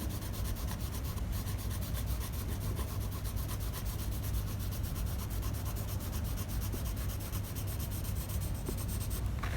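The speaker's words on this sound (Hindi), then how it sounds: "पेंसिल को हम इस तरह से पकड़ के हल्का हल्का शेड करेंगे।" A pencil shades and rubs across sketchbook paper, a close, steady scratchy scraping that continues evenly throughout with no speech.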